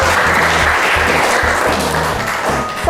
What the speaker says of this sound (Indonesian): Kita kasih aplaus tadi untuk Salma